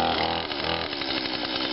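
A chainsaw cutting a tree, its engine buzzing loudly and close with a rough, sustained snarl over a short stretch, no voices.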